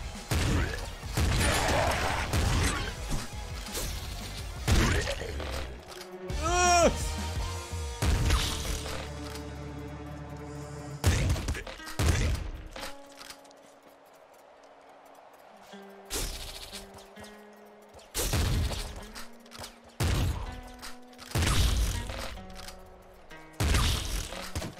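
A large shotgun blasting in the twin-stick shooter Nuclear Throne: a series of loud, abrupt booming shots in uneven bursts, separated by quieter stretches of tonal game music and chimes.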